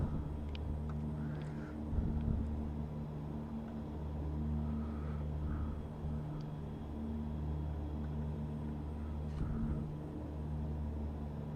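Turboprop engines of a Beechcraft King Air in flight as the throttle is eased back, a steady droning rumble with a constant tonal hum filling the cabin throughout, no talk over it.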